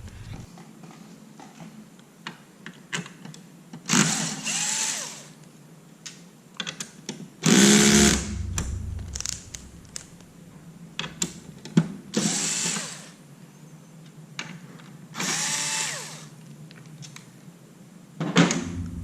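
Power screwdriver buzzing in short bursts while removing screws from a Dell PowerEdge R820 server, four or five whirring runs of a few seconds each at close range, with faint clicks and handling noise between them.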